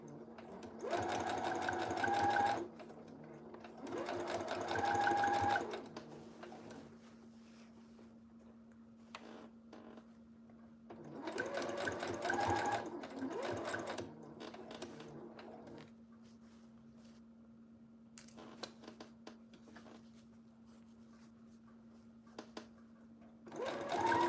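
A home sewing machine runs in several bursts of steady mechanical whirring, near and fairly loud, separated by quieter pauses with a constant low hum and a few small clicks.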